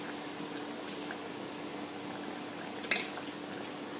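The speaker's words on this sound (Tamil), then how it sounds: "இப்போ நமக்கு காலிஃப்ளவர் நல்லா கொதிச்சு வந்துட்டுருக்கு." Cauliflower gravy simmering in a pan on the stove: a soft, steady bubbling hiss throughout, broken by one brief clink of a utensil against the pan partway through.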